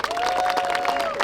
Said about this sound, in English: give yourselves a round of applause for being on this issue